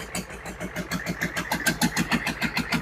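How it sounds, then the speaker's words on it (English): GEP Navistar 6.5 diesel engine with a Stanadyne DB2831-4911 injection pump, running steadily with a rhythmic mid-pitched knocking clatter, close and moderately loud, warming toward operating temperature. "I'll turn the lapel mic off so you can hear the motor now."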